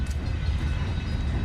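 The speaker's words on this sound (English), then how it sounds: "Wow, that's a big freight train." A big freight train rolls past on a New Orleans street in the early morning, a steady, loud low rumble and rattle of rail cars that continues unbroken throughout.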